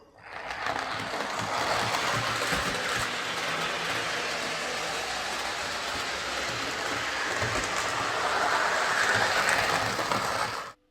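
A Hornby A4 Mallard model locomotive chassis, heavily oiled, runs steadily for about ten seconds with a continuous whirring motor and fine mechanical chatter, starting and stopping abruptly with no talking.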